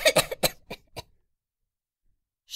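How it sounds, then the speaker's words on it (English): A harsh fit of violent coughing after a drink, about five rapid hacking bursts close up, then the sound cuts to silence. "Drinks and coughs violently."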